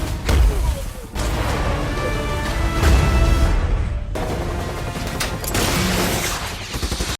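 Gunfire bursts in a film scene as prison guards shoot at escaping inmates, loud and dense rapid volleys with crashes, continuing for several seconds with brief drops in between.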